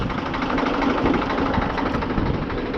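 A farm machine labouring through deep mud at the end of the harvest season, a steady droning engine under load that runs continuously without pause.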